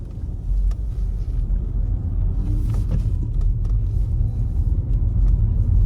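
An older Audi A4 with its rear springs practically missing drives along with its headlights on. From inside the car comes a loud, steady low rumble of road and engine noise, with no break.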